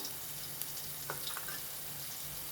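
Chopped onions sizzle steadily in a hot pan with salt, a constant frying hiss with a few soft scrapes of stirring partway through.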